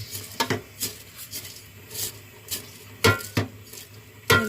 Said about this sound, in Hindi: इसको चम्मच की मदद से थोड़ा सा हिलाएंगे